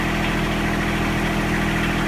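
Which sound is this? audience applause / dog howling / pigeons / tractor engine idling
tractor engine idling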